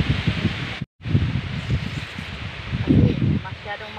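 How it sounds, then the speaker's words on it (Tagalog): Strong wind blowing through leaves outdoors, a broad rustling rush that gusts and swells, with brief buffeting against the microphone and a person talking over it. "Kasi masyadong mahangin."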